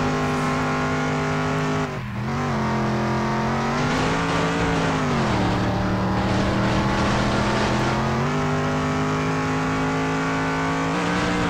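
Cars racing in the video game Demolition Derby 3, a loud continuous engine drone with shifting pitch as revs rise and fall, steady and close throughout, with a brief dip near the start and no talking.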